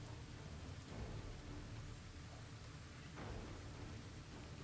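Steady rainfall in the fantasy role-playing game Pathfinder: Wrath of the Righteous, a faint, even hiss of falling rain with a low rumbling undertone that holds throughout.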